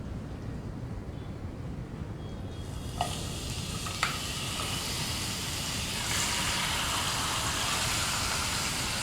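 Marinated chicken sizzles steadily in hot oil in a pan over a high flame, a dense continuous frying hiss that swells louder partway through, with a couple of brief clicks or knocks of the pan early on.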